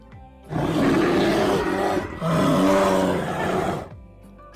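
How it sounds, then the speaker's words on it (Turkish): Two long, deep, rumbling roars from a bear, each lasting well over a second with a short pause between, loud and close. "Ayılar böyle ses çıkarır."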